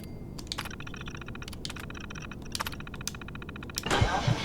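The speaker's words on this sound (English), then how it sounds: "I often forget people need to use the keyboard to access a terminal." A keyboard is typed on at a computer terminal in the Fallout 4 video game, giving quick irregular clicking keystrokes in bursts over soft background hum, ending with a louder rushing noise.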